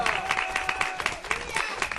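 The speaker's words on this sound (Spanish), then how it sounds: "Dé un aplauso al Señor." Church congregation at a Pentecostal service clapping together in a brisk, steady rhythm, a dense crowd sound with a voice speaking over it.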